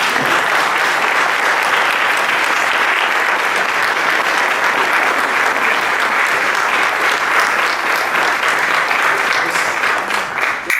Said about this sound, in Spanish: el aplauso se lo dedicamos a Paulette